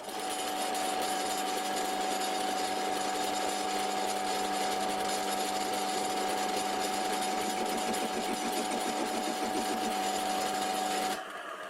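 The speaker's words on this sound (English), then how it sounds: "For my next test I'm going to recut this pointy bit that was actually made on the lathe I restored." An antique Karger metal lathe spinning at 425 RPM recuts a pointed workpiece, giving a steady close mechanical whine with a sustained tone and faint rhythmic chatter, running continuously before stopping near the end.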